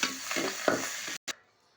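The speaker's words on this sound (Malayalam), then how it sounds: "കറിവേപ്പിലയും കൂടെ ഇട്ട് നമ്മൾ നന്നായിട്ട് മൂപ്പിക്കുകയാണ്." Crushed garlic and curry leaves frying in hot oil, a close crackling sizzle with a few stirring scrapes that cuts off abruptly after a brief burst.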